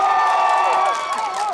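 A large outdoor festival crowd at the 56th Jinhae Gunhangje cherry blossom festival cheers and whoops loudly, with voices rising and sliding over scattered applause.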